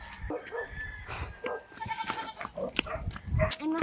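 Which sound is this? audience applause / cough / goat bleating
goat bleating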